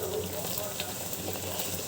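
Pitha batter sizzles and fries in hot oil in a home kitchen, a soft continuous crackle with faint bubbling close by, fairly quiet.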